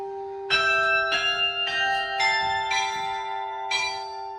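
Carillon bells at Hoshiv monastery, sounded by pressing keys: six or so clear struck bell tones in an irregular sequence, each ringing on with sustained overlapping hum, moderately close and alone.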